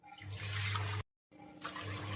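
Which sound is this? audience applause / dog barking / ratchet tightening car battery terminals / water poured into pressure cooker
water poured into pressure cooker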